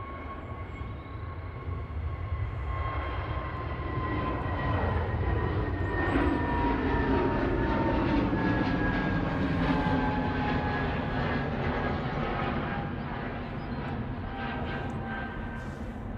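An Airbus A320neo arriving from Amsterdam at Manchester Airport, a sustained loud jet roar with whining engine tones that swells toward the middle and then eases, heard from the ground with no talking.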